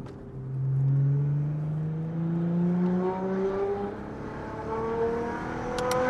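A heavily modified Audi S5 with over 600 horsepower revs and accelerates, its engine note climbing through several rising gear sweeps, loud and close with no talking.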